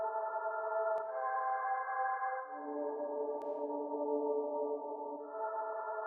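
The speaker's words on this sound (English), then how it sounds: "I'll put it on a plate reverb." A soft liquid drum and bass synth plays slow sustained chords through a plate reverb, shifting a few times, with a smooth reverberant wash and a couple of tiny clicks.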